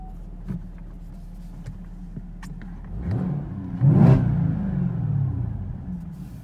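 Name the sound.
2018 Chevrolet Camaro ZL1 1LE engine running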